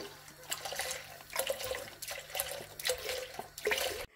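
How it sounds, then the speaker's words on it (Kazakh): Two litres of milk being poured into a pot over a low flame gives a quiet, uneven splashing and gurgling pour with small surges, close by, under a faint steady hum. "Енді қазанымыздың астын жай отқа қойып, 2 литр сүтімізді құямыз."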